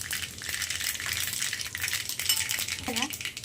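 Mustard seeds and cumin go into hot oil, producing a close, steady sizzling crackle with tiny rapid pops and a brief metallic clink of a utensil near the end.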